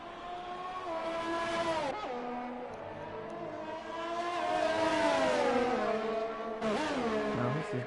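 Williams race car in a racing video game exiting the pit lane onto the Austria circuit, its engine droning and climbing through gears, with a brief dip and shift near two seconds and another sharp change near the end; no voices.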